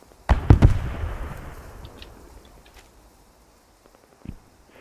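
A tank gun firing in the video game Post Scriptum: one sharp, loud boom with a quick double crack, then a long rumbling decay, and a faint distant pop a few seconds later.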